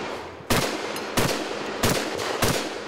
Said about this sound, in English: Do you see the fire come out of a gun over here on that fifth round?